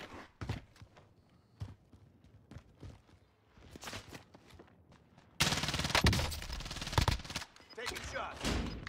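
Video game gunfire: sharp shots and short bursts crack out irregularly through the first half, then a dense, louder stretch of rapid fire takes over from about the middle to the end.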